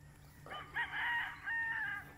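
A rooster crows twice in quick succession, fairly loud and close, over a low steady hum, on a chicken farm.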